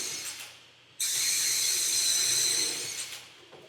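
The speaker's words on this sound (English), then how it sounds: "now I'm going to screw them in place." A steady, loud whirring hiss of a power driver driving screws into wood runs continuously for a couple of seconds after a sudden start, then tapers off.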